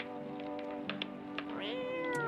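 A cat meows in a video game, a clear drawn-out mew over steady background game music with faint clicks.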